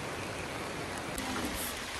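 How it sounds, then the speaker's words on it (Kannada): Soft, steady monsoon rain patters continuously on a plantation in Dakshina Kannada, a faint even hiss with no voices over it. "ಈಗ ಮಳೆ ಬರ್ತಿದೆ ಆಲ್ರೆಡಿ"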